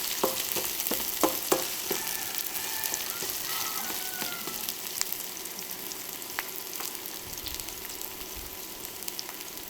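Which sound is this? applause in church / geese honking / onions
onions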